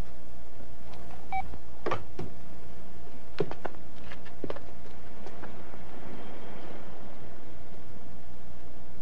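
A telephone number is dialed, with a few short tones and clicks scattered over a constant hiss of background noise, moderately loud, with no voices.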